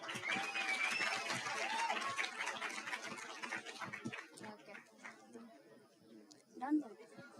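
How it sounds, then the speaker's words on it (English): A ceremony audience applauds the nursing students after their dance performance, giving a broad crowd clap that slowly thins out. Chatter and a few scattered voices come through as the clapping fades toward the end. "Please give a round of applause for the nursing students."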